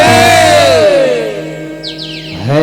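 A crowd at a Ramdhuni devotional gathering calls out a loud jaikara in praise of Ram. The voices rise in a sustained, melodic chant that swells, dips briefly and then surges again near the end.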